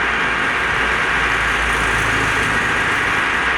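A bus in a driving video game runs at speed with a steady, droning engine hum that holds constant throughout, with no talk over it.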